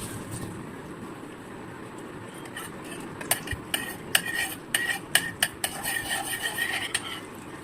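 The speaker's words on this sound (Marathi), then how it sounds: "आपण याच्यामध्ये कांदा आणि लसूण परतून घेऊया" A spoon scrapes and clinks against a pan in quick, irregular strokes over a steady low hiss of onion and garlic sautéing, close by with no talking.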